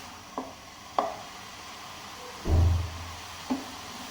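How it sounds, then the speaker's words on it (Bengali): Grated carrots fry in ghee over high heat for carrot halwa, a faint steady sizzle broken by a few sharp scrapes of stirring and one heavier, thumping toss of the pan. "একটু হাই হিটে রেখে এটাকে ভেজে নিতে হবে।"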